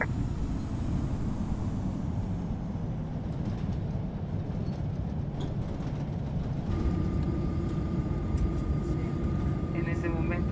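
Copa Airlines Boeing 737-800 taking off from runway 3 left at Tocumen in Infinite Flight, a steady loud engine roar that builds slightly, with a tone emerging partway through.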